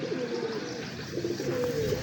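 Pigeons coo with soft, rolling calls that repeat close by over a constant low background hum.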